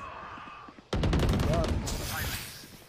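Gunfire in Valorant, a rapid close burst of shots starting suddenly after a quiet lead-in, loud and rattling for about a second and then trailing off into softer game sounds.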